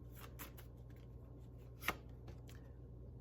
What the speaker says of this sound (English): I'll get some of these cards and leave it here.